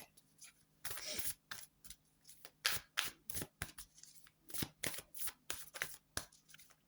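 Tarot cards being shuffled up close, a quick run of irregular papery riffles and slaps in bursts, fairly soft, with no talking over them.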